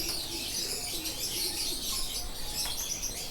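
Soft, low cooing from Rampuri pigeons murmurs steadily alongside faint chirps from other birds, with a constant hiss of background noise.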